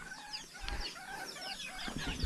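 A wild chicken caught in a mountain forest, clucking softly and repeatedly at close range in a quiet setting, with no talk.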